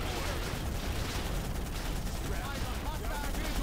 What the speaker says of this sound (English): Everything is just exploding